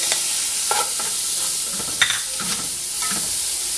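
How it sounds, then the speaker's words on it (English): Meat dropped into a pot with sesame oil and vegetables for Korean radish soup (moogook), giving a steady close sizzle with a few stirring scrapes and clinks throughout. "Now for non-vegan, I'm going to be adding my meat."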